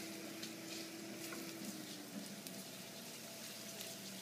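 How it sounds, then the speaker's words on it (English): Garlic sautéing lightly in a pan for a herb-encrusted chicken and pasta dish, a faint, steady, soft sizzle with no talk over it. "The garlic going, so we're going to put that in. Nice. And we're just going to saute this lightly."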